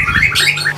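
Anis kembang (orange-headed thrush) singing up close: a quick run of bright, fluttering whistled notes rising and falling in a rapid phrase, with a steady low hum underneath.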